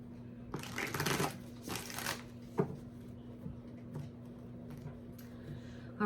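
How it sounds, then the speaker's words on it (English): Tarot cards are shuffled close by in a quiet room, with two quick riffling bursts early on followed by softer scattered card rustles and taps. "One more shuffle."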